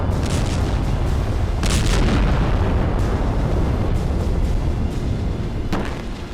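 Heavy, continuous rumbling blasts from missile attacks in Ukraine, sharper bursts rising out of the roar, loud and dense like distant explosions rolling over one another.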